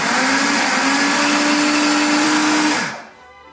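An electric blender whirs loudly and steadily as it mixes lime juice, lemon juice and egg yolks for a pie filling, running at a constant pitch before spinning down and stopping near the end.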